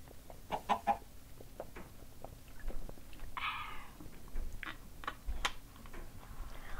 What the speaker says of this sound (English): That chicken, is obsessed with me.